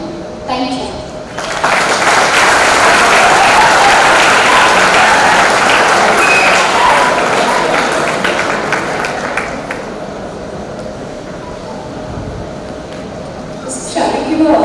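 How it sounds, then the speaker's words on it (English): Audience at a chartered accountants' conference breaks into sustained, loud applause filling a hall, fading slightly toward the end before a voice returns. "Shall we give a big round of applause to our"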